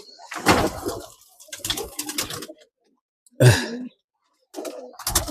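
Golden pigeons in a loft give several close, low, throaty coos in short separated bursts, with brief silences between them.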